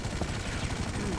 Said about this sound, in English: How much is this chopper?